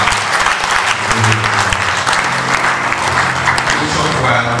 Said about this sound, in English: For clapping, we can put those hands together.